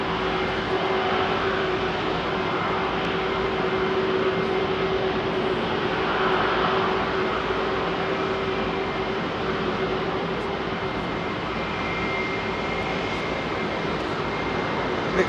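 Airbus A320neo jet at Heathrow Airport, a steady broadband engine roar with a faint tonal whine, holding at an even loudness throughout as it taxis or passes nearby, with no talk.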